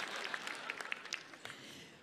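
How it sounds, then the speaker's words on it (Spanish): A live comedy audience at a televised charity telethon in Chile claps in a short, scattered burst that fades quickly, moderately distant and fairly quiet. "Ya no los aplaudan tanto"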